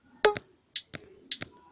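A snare sample auditioned in the GrooveMixer app on Android: three quick pairs of crisp, snappy hits with brief ringing tails, clean and alone against silence.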